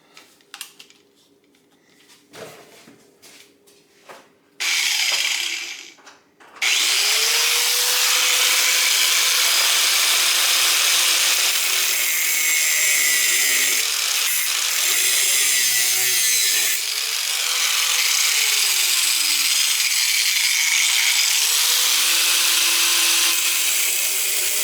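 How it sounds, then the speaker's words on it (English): Cutting wheel grinding through metal tabs for a motorized bicycle kickstand, a loud continuous high-pitched screech that starts after a few seconds of handling knocks and runs for nearly twenty seconds, its pitch dipping as the load changes. "now I'm going to take a cutting wheel and I'm going to cut part of this off so it fits better."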